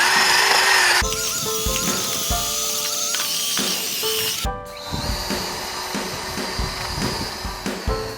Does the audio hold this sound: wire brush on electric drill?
yes